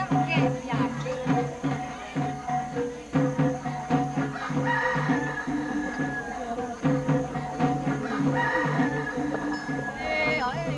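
Chickens cluck and a rooster crows amid a busy, crowded outdoor feast scene in Borneo before an animal sacrifice, with overlapping voices and background noise.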